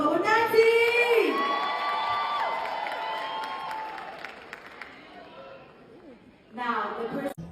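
Audience applause and cheering for a performer at a music awards show, a broad wash of crowd noise with whoops that fades over several seconds, then a short loud burst near the end.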